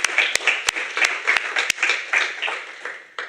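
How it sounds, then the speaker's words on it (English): An audience at an evening panel event on women in leadership claps for a few seconds, with sharp individual hand claps standing out over a light spread of applause. "please share a warm round of applause to welcome our panellists this evening"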